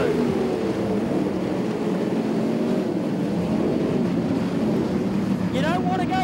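Sprintcars race at Valvoline Raceway during a green-flag restart, a dense roaring engine drone with a commentator talking over it and a sharp rising whine near the end.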